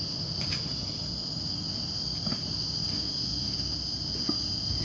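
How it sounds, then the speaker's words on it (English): Crickets chirp without pause along a nature trail in Singapore, a steady high shrill drone held at an even level with a few faint ticks and low rustling beneath, no voices. "can you hear some cricket sounds?"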